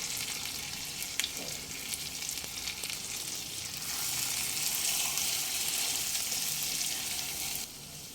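Mutton leg nehari sizzles as it is sautéed with masala in a pan over a medium flame, a steady close hiss of frying with faint stirring scrapes throughout.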